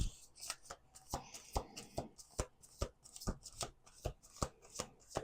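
A deck of cards is riffled and shuffled repeatedly, crisp rapid bursts of flutter in a steady rhythm, close up and fairly quiet, with no voices.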